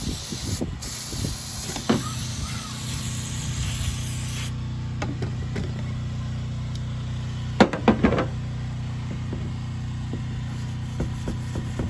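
A spray can hisses headlight coating onto a Toyota Tacoma headlight, a loud continuous spray for about four seconds that then gives way to a lower steady hiss, with a few sharp knocks and clicks later.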